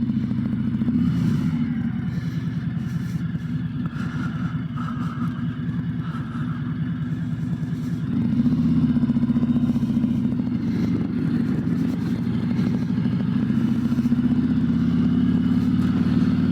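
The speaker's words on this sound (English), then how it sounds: "Amir is going first in his Livewire." Motorcycles, a Harley-Davidson LiveWire electric bike and a Road Glide, ride off together. A steady mid-volume engine rumble with slight clatter carries throughout, close by, with no talking.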